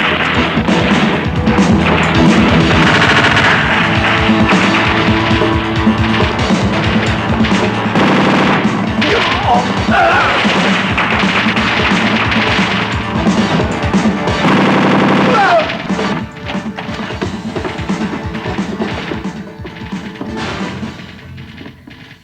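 Loud, sustained gunfire in a Filipino action film scene, a dense rapid stream of shots and crashes that rattles on for many seconds before easing into scattered bangs toward the end.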